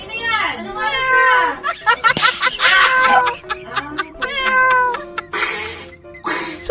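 A person imitates a cat with a string of loud, drawn-out meows at 2 AM, interspersed with other voices talking and laughing nearby.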